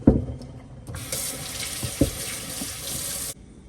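Cut pumpkin pieces are rinsed under a running kitchen tap, a steady hiss of water splashing into the sink for a few seconds, with a few clunks at the start and end of the flow.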